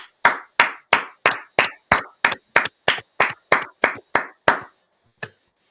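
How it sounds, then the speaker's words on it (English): A single person claps their hands fourteen times in an even, brisk rhythm, each sharp close slap standing alone in a quiet room, followed after a brief gap by one last clap. "then clap your hands and look around"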